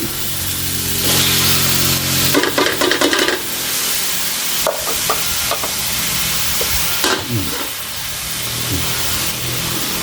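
Fish balls sizzling in a hot pan for stir-fried glass noodles with holy basil, with a steady hiss and repeated scraping stirs of the spatula, close and loud, with no talk.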